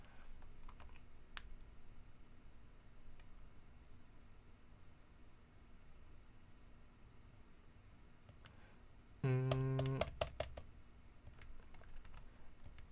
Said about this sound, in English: from the typing sound you can reconstruct because each key has a slightly different sound